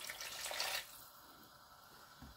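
Water pours from a tap into a cooking pot for rice, a brief splashing stream that stops after about a second, leaving quiet room tone with a faint knock near the end.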